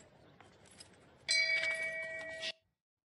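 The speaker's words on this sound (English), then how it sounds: "Just to hear the shame bell." A shame bell sound effect rings out with a sharp metallic strike and a bright ringing tone that holds for about a second before cutting off abruptly, over faint background noise.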